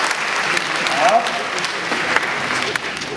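An audience at a naturopathy talk claps in a steady, fairly loud round of applause, dense and continuous, with faint voices mixed in beneath.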